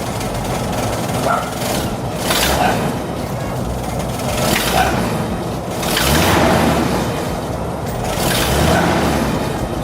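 A 1971 Chevrolet Camaro engine revs in loud, repeated swells that rise and fall every couple of seconds, steady and close with no talking.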